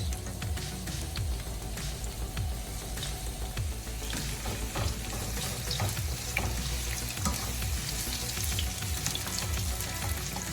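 Loud, steady sizzling of onions frying in hot oil, with occasional crackles and stirring scrapes throughout, close up.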